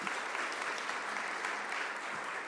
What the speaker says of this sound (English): we need to give our children a round of applause